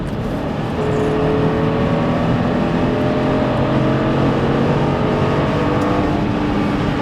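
A 315-horsepower BMW X5 4.4i Sport engine roars steadily as it accelerates, with a rising tone under heavy road and wind noise, loud and close throughout.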